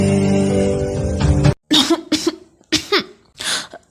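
A few sharp, close coughs come in quick bursts right after background music stops abruptly, with brief pauses between each cough.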